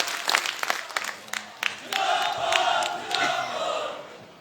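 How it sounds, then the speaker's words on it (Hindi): Election rally crowd in Arki applauding in honour of soldiers: scattered sharp claps at first, swelling into steady mass applause with cheering voices mixed in. "एक बार सभी हाथ उठाकर तालियां बजाकर हमारे देश के सेना के जवानों का अभिनंदन किया जाना चाहिए।"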